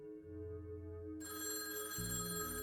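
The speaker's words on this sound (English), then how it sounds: "when his phone rang" A telephone rings in a home at night, a sustained electronic ringing tone that changes pitch partway through, fairly loud and alone with no talking.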